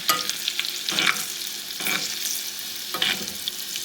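Cumin seeds and garlic fry in a pan for Guyanese dhal, a continuous sizzle broken by three or four distinct spoon-stirring scrapes at regular intervals.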